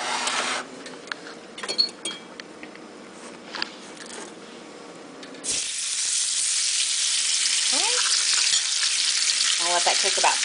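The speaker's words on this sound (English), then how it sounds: "I am just going to fry this fish with that, so hopefully it won't burn up on me here" Tilapia fish frying in safflower oil in a pan, a soft sizzle that swells into a loud, steady hiss partway through, with a few faint clicks and light utensil sounds, and no voices.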